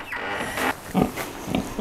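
Pigs grunting on a farm in a few short, close bursts with breathy low snorts between them, no talk over them.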